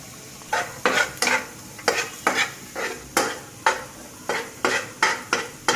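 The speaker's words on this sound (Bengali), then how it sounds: "একটু সবজিটা বেশি ভাজা যাবে না, মিডিয়াম ভাবে ভাজতে হবে, একদম কম জালের মধ্যে।" Vegetables being stir-fried over low heat in a pan, a series of repeated scraping and tossing strokes with a steady sizzle underneath, each stroke loud and close, with no speech.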